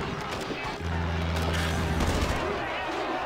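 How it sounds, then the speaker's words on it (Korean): Artillery bombardment in the strategy video game DomiNations during a World War guild battle, a dense rumbling barrage of booms and gunfire with a sustained low drone, continuous and loud. "자, 적을 무너뜨려라. 포격 시작."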